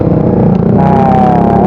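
A motorcycle fitted with an aftermarket knalpot exhaust revs close by, a loud, throaty, steady engine rumble that climbs slightly in pitch partway through.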